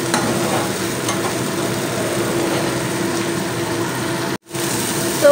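A spice paste for pabda fish curry fries in oil in a home kitchen, giving a loud, steady, dense sizzle with stirring. The sound cuts out for a moment near the end and then resumes.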